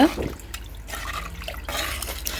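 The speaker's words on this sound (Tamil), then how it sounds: "தேவையான அளவுக்கு தண்ணி ஊற்றிக்கோங்க" Water poured into a clay pot while making a Tamil-style sankara fish curry, a soft broadband splash and trickle running steadily under the kitchen background for a couple of seconds.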